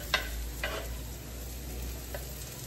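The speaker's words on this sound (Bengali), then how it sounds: "এখানে ভাজা হয়ে গেছে গাজর আর বিনস, তো আমরা এখানে যেটা করব সেটা হচ্ছে পেঁয়াজটা দিয়ে দিই" Onion sautés in a pan with already-fried carrots and beans, making a soft, low sizzle broken by a few light stirring clicks.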